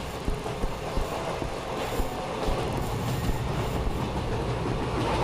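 A train runs in a horror video game, a dense steady rumble of wheels and carriage noise with faint rhythmic clatter, loud and continuous with no voices.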